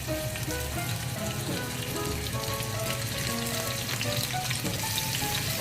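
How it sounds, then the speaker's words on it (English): Garlic sizzles in hot oil in a pan while Korean japchae is being cooked, a steady, close, crackling fry that runs without a break and with no talk. "I like the sizzling sound."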